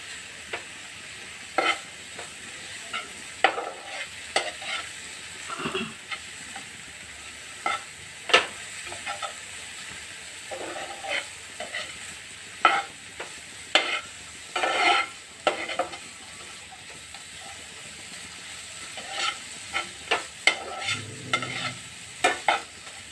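Whole spices frying and being stirred in a pan for a rajma curry, with irregular metallic scrapes and clinks of the spoon against the pan over a low, continuous sizzle, close by.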